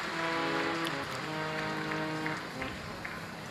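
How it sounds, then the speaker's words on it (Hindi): An audience at a live Shiv Mahapuran religious discourse claps loudly and steadily for the host family, a dense wash of applause continuing under a voice and background music. "एक बार जोरदार ताली बजाकर यजमान परिवार के लिए"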